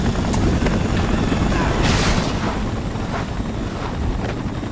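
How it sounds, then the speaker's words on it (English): Helicopter in the Spider-Man 3 video game, a loud broadband rotor and engine roar with whooshing surges, heard under voices. "Gotta stop the chopper from hitting the street."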